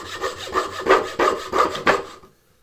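A handmade turning saw cuts wood on the pull stroke, giving about six close, rhythmic rasping strokes that stop abruptly.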